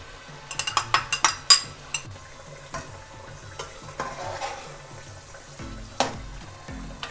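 Masala with a packet of cream sizzling in a pan for white chicken korma, with a quick run of sharp spoon scrapes and clinks against the pan at first, then sparser stirring knocks over a soft steady fry.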